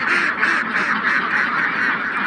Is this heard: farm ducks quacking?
yes